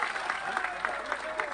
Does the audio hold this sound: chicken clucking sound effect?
no